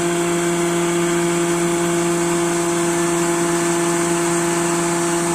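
Hydraulic mule external pressure supply running steadily while pressurizing a Learjet 25's hydraulic system, a loud continuous mechanical drone with strong steady hum tones throughout, no voices.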